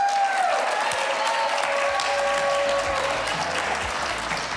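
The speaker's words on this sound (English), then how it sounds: "Big round of applause." Sustained applause from a studio audience at a live morning television show giveaway, steady and fairly loud throughout, with a few bright musical tones ringing over the clapping.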